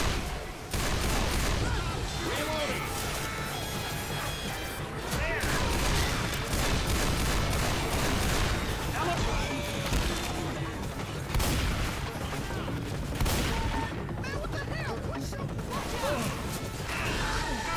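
Dense, continuous gunfire in Left 4 Dead, rapid shots and impacts crackling without pause at close range, with players talking over the clamor.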